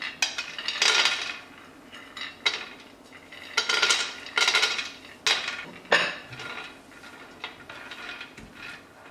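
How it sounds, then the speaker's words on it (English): Toasted nuts tip from a pan into a small bowl, making bursts of clattering, clinking rattles in uneven clusters, close and fairly loud, with quiet gaps between pours. "I'm just going to take these off the pan and pop them into a little bowl"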